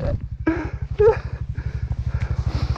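A KTM Duke 690 single-cylinder engine runs with a steady, rapid pulsing throb while it tows a skier over snow and stones, loud and close, with brief voices and shouts over it.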